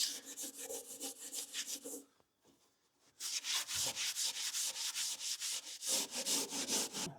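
Hand sanding roughens a surface in the engine room of a hybrid electric trawler before insulation is glued on. Close, steady rhythmic scrubbing strokes stop briefly, then resume just as loud.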